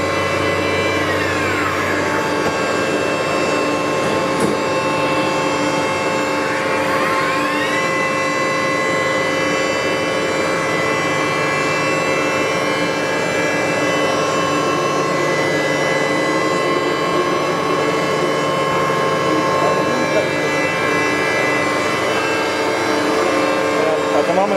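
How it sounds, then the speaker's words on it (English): A CNC machine steadily cuts round bar stock into suspension parts for a turntable's tonearm mounting, a continuous mechanical whine with sustained tonal hum and occasional rising and falling sweeps as the tool moves, loud and close without pause. "At the moment the machine is producing those parts, which is the suspension system for the iron bore mounting."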